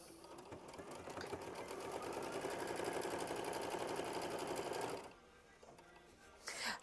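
A sewing machine runs steadily for about five seconds, machine-stitching a fabric flower bouquet quilt block, with a fast even whir that then stops, followed by a brief rustle of fabric.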